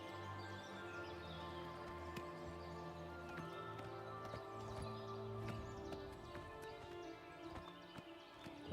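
Faint horse hooves clip-clop steadily in the video game Oblivion Remastered, light rhythmic taps over quiet game ambience and music.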